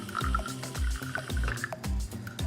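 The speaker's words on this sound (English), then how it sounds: "I'm gonna take some water and fill it to the water line" Plain water is poured into a small steam cleaner's tank, a short trickling, gurgling fill with repeated low glugs in a steady rhythm, close up and with no talk.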